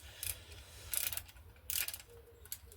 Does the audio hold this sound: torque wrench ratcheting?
yes